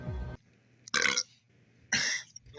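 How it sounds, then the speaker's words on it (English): Two loud, drawn-out burps sound up close, each about a quarter second long and separated by a short pause, with a brief low voiced sound just before them. "Why did you burp?"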